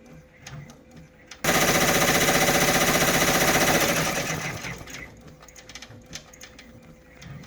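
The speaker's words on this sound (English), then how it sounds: "Just checking, it's going really well. Design's starting to come together." An embroidery machine stitches a design for a lined zipper bag, a loud, steady rapid mechanical chatter that starts abruptly, runs for a few seconds, then tapers away into quieter room noise.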